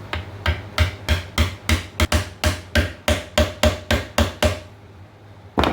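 A hammer drives a piece home with about fifteen steady, evenly spaced sharp strikes, close and loud, the hits ringing more solidly toward the end before a pause and one final blow.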